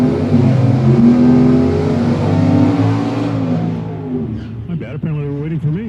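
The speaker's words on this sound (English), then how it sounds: "our next pair wait patiently to initiate the burnouts." Drag racing cars at Tucson Dragway doing burnouts during fuel altered Friday qualifying, a loud sustained engine roar with heavy rumbling and revving throughout that eases off near the end, with a voice speaking briefly.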